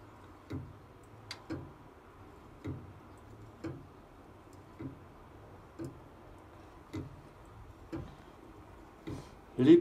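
A pendulum clock made by Arsène Cretin-l'Ange in 1895, restarted after a long stop, ticks in a steady, evenly spaced rhythm, faint and close, with a slightly louder knock at the end.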